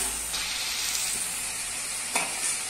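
Carrots and cauliflower fry in a kadhai with a steady, close sizzle and hiss, broken by a few soft scraping stirs.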